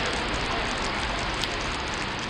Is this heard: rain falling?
yes